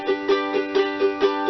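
Ukulele strumming an even rock and roll rhythm with no accented backbeats, six steady, equally weighted chord strokes in quick succession, close and clear with nobody talking.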